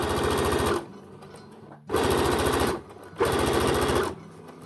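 A sewing machine embroiders a fabric heart in three close, loud bursts of rapid needle hammering separated by short pauses, with no talking.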